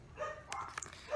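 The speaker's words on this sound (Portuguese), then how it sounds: "Não liga para os cachorros latindo." A few dog barks and yips ring out in a short burst, somewhat distant and fairly faint.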